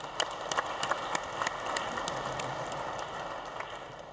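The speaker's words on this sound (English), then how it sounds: "Give him a round of applause" An audience at a Seattle waterfront town square event applauds an executive director, with brisk sharp claps from several people nearby over a steady crowd wash, gradually thinning out.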